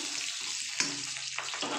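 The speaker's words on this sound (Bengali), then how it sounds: "আলুগুলো একটু ভাজা ভাজা করে নেবো তেলের মধ্যে" Potatoes fry in hot oil with a quiet, steady sizzle, broken by a couple of small clicks as the pieces are moved about in the pan.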